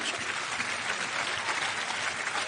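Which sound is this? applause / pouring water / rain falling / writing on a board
applause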